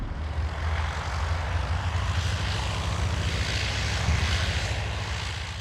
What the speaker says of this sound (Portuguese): Marks pousa seu avião em meio a ondas de quase 4 metros